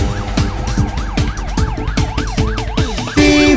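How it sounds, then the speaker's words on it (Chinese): A cartoon police car siren wails up and down repeatedly over bouncy children's music, steady and prominent throughout, with the music swelling louder near the end. "滴滴呜呜，我是正义的超级警车"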